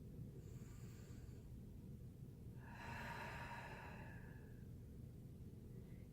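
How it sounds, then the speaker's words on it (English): A single slow, deep breath drawn during a relaxing yoga session, rising into a soft, breathy swell near the middle before fading, with no talking. "So now I'll take another deep breath"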